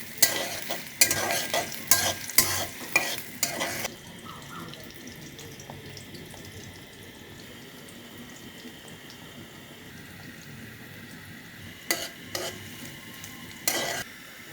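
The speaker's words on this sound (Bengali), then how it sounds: "পেঁয়াজ নাড়া হচ্ছে" Onions for a beef and liver curry are stirred while frying in a pan, with sharp scraping strokes in quick bursts at the start and again near the end, a soft steady sizzle between them, no talking.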